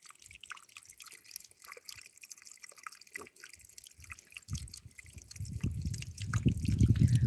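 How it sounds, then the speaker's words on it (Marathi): Water drips and trickles in small irregular splashes, sparse at first, then building into a fuller, louder flow toward the end; no voices. "पाण्याचा आवाज येत असेल तुम्हाला"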